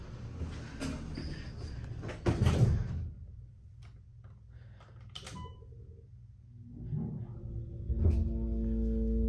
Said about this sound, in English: Let's let the door close first.